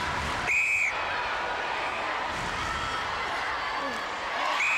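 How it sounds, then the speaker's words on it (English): An umpire's whistle at a 1995 World Cup netball match between New Zealand and South Africa, two short shrill blasts at the start and end over a constant crowd roar in a large arena. "On my whistle, please."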